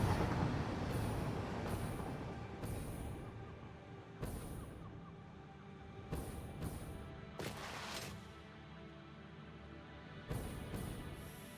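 A train in the factory-building game Satisfactory rumbles past, a steady rolling drone with repeated brief hissing bursts, heard nearby with no talking.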